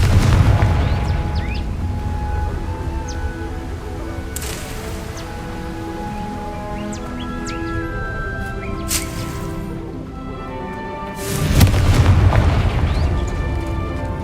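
Confringo fire spell in Hogwarts Legacy, heard as low booming blasts, one loud burst early and another swell of rumble near the end, over a continuous game soundscape with faint tonal music.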